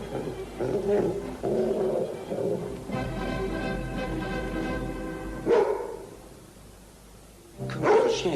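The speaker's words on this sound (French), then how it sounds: "Comment ce chien est-il entré?" Dog barking inside a house in a 1984 French science-fiction film, a few short close barks mixed with dialogue and background music.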